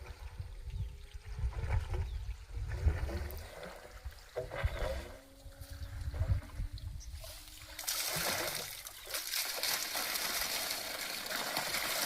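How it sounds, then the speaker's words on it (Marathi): Water gushes and splashes steadily from a 5 HP Shakti solar pump in a well, with a low mechanical hum underneath, the flow growing louder and brighter toward the end. "हे मोटर ऑन केलेली आहे"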